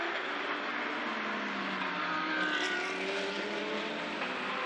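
Porsche GT race car from a Blancpain GT Series Asia race in Zhejiang, its engine note droning steadily and loudly as it brakes and powers through a downhill hairpin, a continuous close motorsport roar with shifting pitch.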